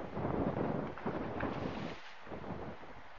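Steady wind buffeting a microphone aboard a racing trimaran moving at 6 to 9 knots, with a broad rushing roar, briefly dropping near the end before resuming.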